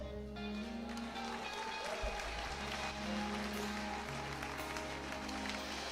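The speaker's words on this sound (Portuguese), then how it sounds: "Dá um aplauso forte ao Senhor." A church congregation applauds, a dense sustained round of clapping under a low musical backing, with voices mixed in throughout.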